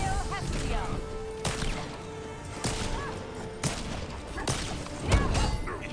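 Sharp gunshot cracks from the fighting game Injustice 2 ring out at irregular intervals over a noisy game soundscape, with some talking mixed in.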